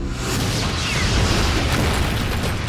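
Rocket launcher explosion from a TV show, a broad loud rumbling blast that sustains for a couple of seconds with dense crackling noise.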